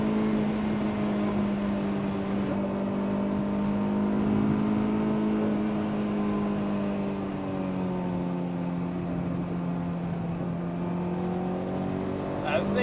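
A track-prepped Honda S2000 engine drones under load from inside the car, its pitch climbing and holding in a sustained high rev as it pulls.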